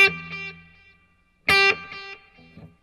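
A Les Paul Standard electric guitar through a Nobels ODR1 overdrive pedal, with reverb and a digital delay set to about 1.5 repeats, plays two short bright chord stabs separated by silence, each followed by faint echoing tails, close and alone.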